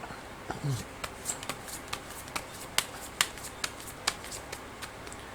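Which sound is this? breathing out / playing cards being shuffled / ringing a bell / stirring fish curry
playing cards being shuffled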